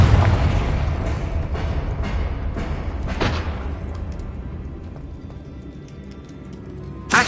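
A Confringo fire spell in Hogwarts Legacy explodes with a heavy boom that rumbles and slowly fades over several seconds, a few thuds and cracks scattered through it and a sharp hit at the very end.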